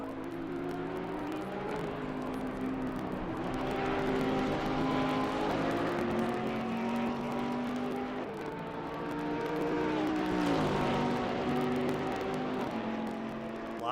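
Porsche and Bentley GT3 race cars in a sim racing game at Oulton Park, engines droning and rising through the gears with shifting pitch as they pass, loud and continuous.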